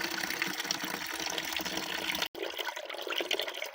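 Water gushes and splashes steadily as it drains from a camper van's pipes for winter, with a brief cut partway through before the flow continues.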